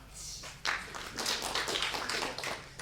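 Scattered clapping from a school awards audience at a state primary debating championship, quiet and somewhat distant, starting sparse then filling into a steady patter of many hands.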